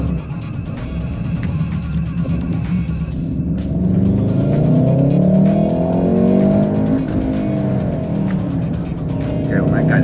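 A car on Bridgestone performance tires slides through a cone course, engine revving loudly and tires scrubbing and squealing as it understeers through the turns, with a voice talking over it.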